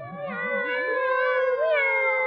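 Cats meowing in a German children's audio play about a wizard and his three black tomcats: a loud, drawn-out wavering meow with rising and falling pitch, close and clear, with no talking over it.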